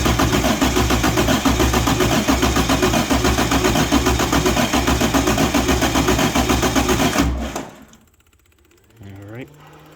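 Cummins 6.7 ISB diesel engine cranking over hard and steady for about seven seconds, a loud rhythmic churn that cuts off abruptly, followed by near silence and a brief whirring tone.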